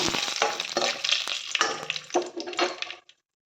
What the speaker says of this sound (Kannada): ಒಂದು ಸ್ವಲ್ಪ ಎಣ್ಣೆ ಹಾಕಿ, ಗೋಡಂಬಿ ಹುರಿಯೋದ್ರಿಂದ ರುಚಿ ಆಗುತ್ತೆ ಕಾಜು ಮಸಾಲ.